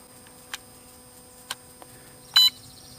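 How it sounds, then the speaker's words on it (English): An RX drone's remote controller gives a short, sharp electronic beep near the end, preceded by a few faint ticks and clicks in an otherwise quiet room. "push this forward and push it aft one time, and you'll hear a beep"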